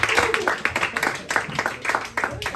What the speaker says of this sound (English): Please give a round of applause for our first comedian,